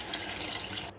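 Water poured steadily into a pot of vegetable pulao with sautéed vegetables in oil, a close, continuous splashing rush that stops abruptly near the end.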